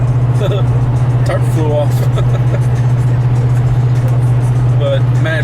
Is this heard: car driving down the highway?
yes